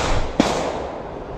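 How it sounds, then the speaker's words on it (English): A single sharp, loud gunshot cracks out at a campsite near a fishing spot over a steady broadband outdoor background, then fades into the ambient hiss. "a loud gunshot rings out of nowhere"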